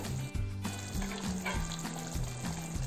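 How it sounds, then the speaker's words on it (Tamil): Eggs sizzle in a pan for egg curry while being stirred, a steady close frying crackle with a faint rhythmic hum and light scraping, no talking. "முட்டையை போட்டோம். லைட்டாக கிண்டி விடுங்க."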